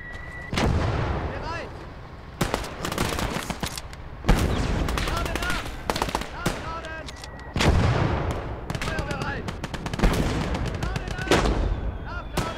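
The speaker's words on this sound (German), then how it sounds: "Was war das denn für ein Schuss?" Repeated sharp gunshots and bursts of gunfire at irregular intervals, loud and close, with booming impacts and voices talking underneath, in the WWII game Gates of Hell: Liberation.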